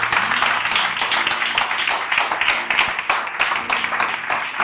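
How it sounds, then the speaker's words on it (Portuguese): Church congregation applauding together, a dense, steady wash of many hands clapping that holds at full strength throughout. "Dê uma salva de palmas para ele."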